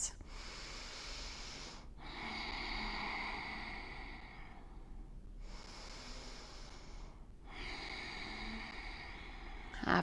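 Slow, steady breathing in a seated yoga twist during a vinyasa flow, three quiet, drawn-out breath cycles separated by brief pauses, close and soft.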